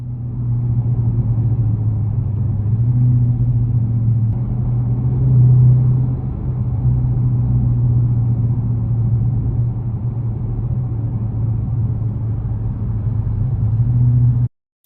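2022 Dodge Challenger R/T with a 5.7 liter Hemi V8 accelerating, a deep steady engine rumble heard from inside the car that swells slightly midway, then cuts off abruptly at the end, no voices.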